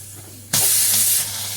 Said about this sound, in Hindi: तब तक कुकर में देखिए कितनी तेज भाप निकली है।